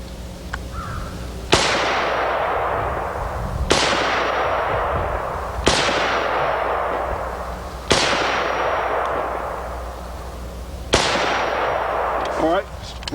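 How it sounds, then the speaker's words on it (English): Five rifle shots from an Israeli FAL or M1A ring out at uneven intervals of about two to three seconds outdoors, each a sharp loud crack followed by a long rolling echo, with brief mechanical clatter near the end. "I'm just going to shoot the rifle with my hand resting under here"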